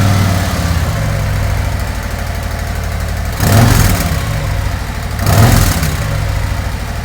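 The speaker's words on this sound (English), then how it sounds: "when you start it up, it does sound like a sewing machine" A 2024 Harley-Davidson Road Glide fitted with Khrome Werks HP 4.5 mufflers idles with a steady low thump in a garage, broken by two short throttle blips that rise and fall back to idle.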